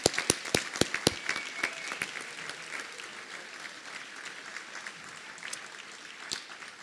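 An audience at a doctoral hooding ceremony claps, sharp individual claps at first merging into steady, moderate applause that tapers off.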